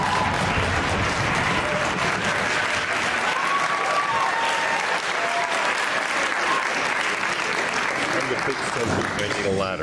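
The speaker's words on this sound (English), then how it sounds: "And the students start applauding" Sustained, dense applause from a room of students at a ballet class, loud and continuous for about ten seconds with a voice faintly mixed in.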